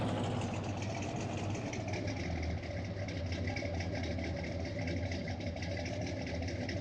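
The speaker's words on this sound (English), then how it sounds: "There's the tractor and implement that he has asked us to make use of." A tractor engine idles steadily in the farming video game Farming Simulator 19, a constant, even mid-low rumble with no change in pace and no voices.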